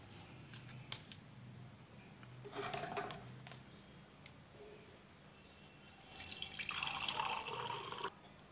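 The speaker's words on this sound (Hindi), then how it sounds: "इस लिक्विड को हम छान लेते हैं।" Homemade onion liquid fertilizer is poured through a strainer, giving two separate bursts of splashing, trickling liquid against a quiet background, one short and one longer.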